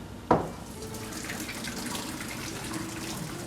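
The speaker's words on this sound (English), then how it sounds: "So we're going to strain our pasta." Pasta water poured off through a strainer lid, a sudden splash followed by a steady, close rush of draining water that continues alone.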